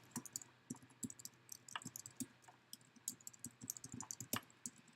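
Rapid, irregular clicking of computer keyboard keys as a message is typed, soft and close with brief pauses between bursts of keystrokes.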